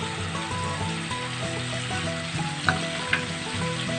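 Sesame, peanut and coconut paste goes into spices frying in oil for a poppy-free pointed gourd dish, giving a steady sizzle with two sharp clicks near the end, all under a continuous tonal background like music.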